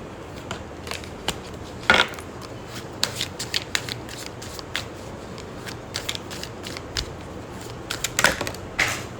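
Tarot cards are shuffled and fall in a run of quick papery flicks and soft slaps, close and fairly quiet, with a couple of sharper snaps along the way.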